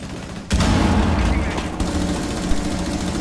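Video game gunfire rattles in a sustained, loud volley from a ranked match, its bursts and engine-like rumble continuing under the players' talk.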